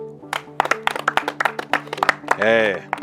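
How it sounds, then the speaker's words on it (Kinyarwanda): Several people clap in a ragged, close burst of handclaps at a Rwandan comedy dispute scene, with voices and a short shout over the claps near the end. "muha amashyi"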